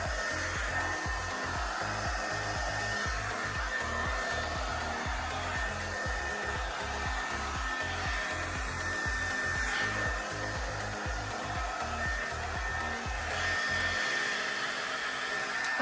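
Revlon hot air brush running on its low heat setting, giving a steady, loud blowing whir with an even motor hum throughout, alone without talk, dropping slightly in the last moment.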